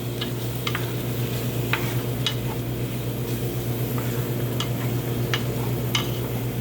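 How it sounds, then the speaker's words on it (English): A spoon stirs collard greens soup in a pot, giving a steady low simmer with scattered light scrapes and clicks against the pot throughout, close and alone with no talking. "let me stir it a little bit"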